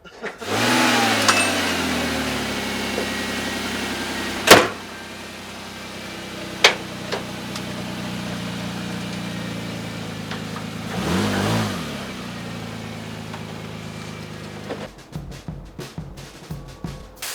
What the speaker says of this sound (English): I'll just drive it and not slow down.